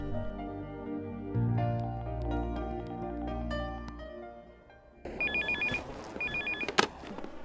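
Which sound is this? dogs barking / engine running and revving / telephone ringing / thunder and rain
telephone ringing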